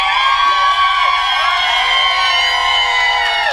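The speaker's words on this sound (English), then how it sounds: "So, who won that? By round of applause," A beach party crowd on a cruise cheers and whoops loudly and continuously, a sustained wall of shouting voices voting for a team.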